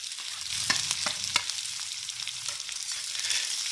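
Onions hit hot mustard oil in a pan for stuffed bitter gourd, giving a bright, close, continuous sizzle punctuated by a few sharp stirring clicks early on.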